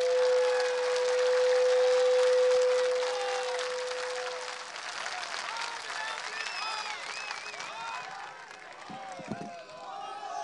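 A political rally crowd claps in a sustained wave of applause, loud and dense at first, then thinning while a voice speaks over it and the crowd continues.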